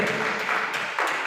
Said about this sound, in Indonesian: Tepuk tangan untuk regu B.